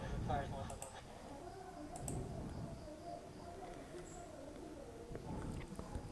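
Mouse clicks while subscribing to a Twitch channel, a few faint, sharp isolated clicks spaced seconds apart under a quiet voice talking.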